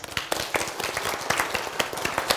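Audience applause for a guest lecturer at a church Bible-and-science gathering, a brief burst of scattered, fairly close hand claps with uneven rhythm.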